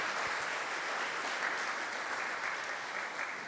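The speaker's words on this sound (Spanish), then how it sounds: "Dale un fuerte aplauso." Church congregation breaking into strong, sustained applause during a sermon, a dense, even roar of many clapping hands with no voice over it.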